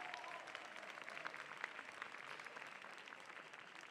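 A commencement audience applauds a New York State Supreme Court justice with a steady, fairly distant wash of many hands clapping and a few faint voices underneath.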